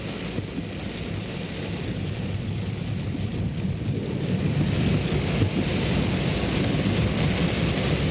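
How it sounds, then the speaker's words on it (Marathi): Heavy early-morning rain in Santacruz, Mumbai, with a dense, roaring downpour and a deep rumbling undertone like distant thunder, building slightly louder midway and holding steady, with no voices. "मुंबईमध्ये मुसळधार पाऊस कोसळतोय।"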